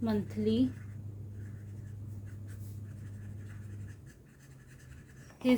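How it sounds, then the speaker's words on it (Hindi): A pen scratches across paper as a math solution is written out by hand, making a faint, continuous scratching with a low steady hum behind it and brief speech at the start and end. "तो मैं यहाँ पे लिख लेती हूँ सोल्यूशन सी पार्ट"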